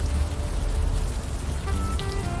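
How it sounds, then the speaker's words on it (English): Steady rainfall pattering through city streets in the video game Unavowed, a dense continuous hiss with low rumble underneath and a few faint tonal notes near the end, no voices. "You're walking the streets in the rain"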